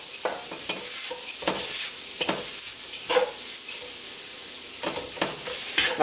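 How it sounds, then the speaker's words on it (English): Shrimp fried rice stir-fried in a wok: a steady, close hiss of sizzling oil broken by repeated scraping and tossing strokes of the spatula at an uneven rhythm, with no talking. "So in goes the rice. And keep stirring it."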